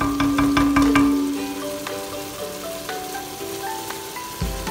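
Tomato masala for tikka boti fries in oil over a high flame, a continuous crackling sizzle with scattered pops, close and steady with no talk.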